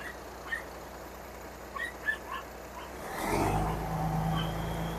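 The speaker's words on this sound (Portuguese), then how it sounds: "vai dar uma acelerada ali para encher o balão" Ford Cargo truck engine revving to refill its air tank, with a low rumble that swells about two-thirds of the way through and holds steady after quieter outdoor background with faint bird chirps.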